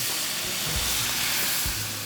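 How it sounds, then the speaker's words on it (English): A pan on a camp stove, holding browned chicken bits, sizzles and hisses steadily as white wine goes in to deglaze it, a dense close frying noise with no talking. "I'm going to deglaze the pan with a little"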